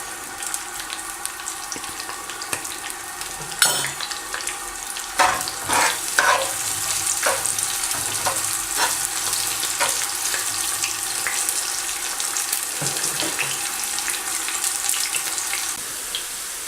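Onions frying in a pan on low flame for Afghani palao, a steady soft sizzle with occasional clinks and stirring scrapes, close and continuous with no talking.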